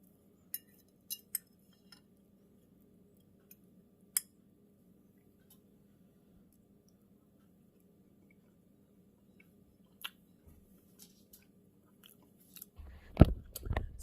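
Chewing freshly made onion pie, with sparse soft bites and faint clicks near the mic in a quiet room, ending in a louder burst of rustling and handling noise.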